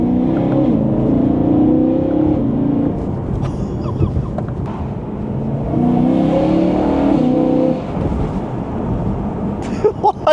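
A BMW E9X M3 V8 with an Eventuri intake and X pipe revs hard up close, rising and falling in loud, rough waves of engine roar, with a few sharp pops near the end.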